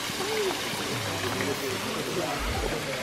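A waterfall on Oahu, Hawaii pours in a steady, rushing wash of water nearby, with people talking over it.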